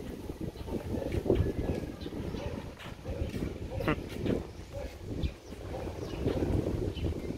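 Strong wind buffets the microphone outdoors on an early morning walk in the Philippines, a steady broadband roar with gusts rising and falling, while people talk over it.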